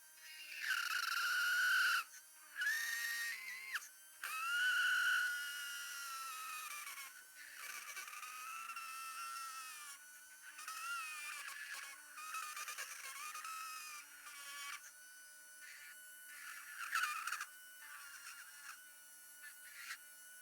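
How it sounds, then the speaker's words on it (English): A rotary dental grinder works the back side of a denture, a high whining hum that rises and falls in pitch as it presses and eases off, in close, intermittent bursts with short pauses between passes. "I'm going to grind the back side of this denture."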